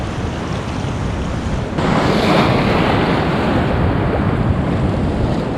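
Pacific Ocean surf rolls and crashes along a shore where crabs are snared, a loud continuous roar of breaking waves mixed with buffeting wind noise and no voices.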